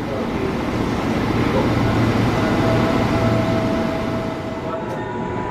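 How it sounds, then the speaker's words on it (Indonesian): A KRL TM 6000 series commuter electric train, built in Japan in 1971, passes as a loud, continuous rolling rumble with a faint whine, heard from a station platform in Depok while people talk in the background. "ini KRL TM 6001 merupakan seri tertua dari jenis KRL TM 6000 series ya, yang dibuat di Jepang pada tahun 71."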